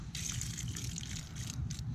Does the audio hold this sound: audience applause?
no